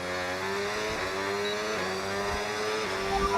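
Formula 1 car in the F1 25 racing game, its engine screaming at high revs with downshifts and tire squeal, loud and continuous throughout.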